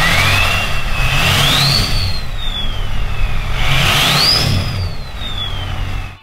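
A Ford 6.0L Powerstroke truck fitted with a Stealth 67G2 turbocharger revs hard twice, its diesel rumble rising with a bright turbo whistle that climbs and then falls away after each throttle blip, loud and close.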